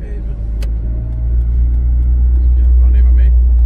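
A passing car out on a street, a steady loud low engine and road rumble that swells and holds close by, with people talking over it.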